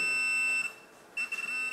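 A Minelab Profind 35 waterproof pinpointer held over a non-ferrous target gives a steady high electronic tone that breaks off briefly and then resumes, clear and close with no talk.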